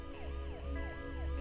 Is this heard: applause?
no